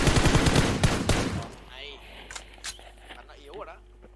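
Rapid gunfire in a battle royale video game, with a dense burst of loud automatic shots that stops abruptly after about a second and a half and leaves quieter game sounds and a few faint thuds behind.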